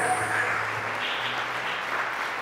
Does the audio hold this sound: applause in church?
yes